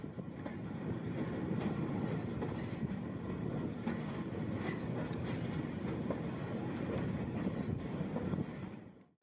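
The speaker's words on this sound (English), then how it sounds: "while riding the trolley, I got a fine view of the axle below" A trolley at the Fort Smith Trolley Museum rolls along its rails, with a steady, loud rumble and rhythmic wheel clatter running through the whole stretch, heard from on board above an exposed axle.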